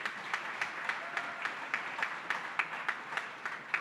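Applause from a dinner crowd at a political party's spring banquet, steady mid-distance clapping with distinct individual claps standing out, no voices.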